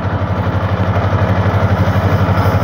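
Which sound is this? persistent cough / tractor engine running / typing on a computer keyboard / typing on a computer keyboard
tractor engine running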